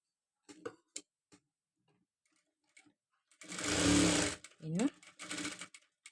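A sewing machine stitches a blouse at a round neckline in short close bursts, one long run and a few briefer ones, between moments of someone speaking.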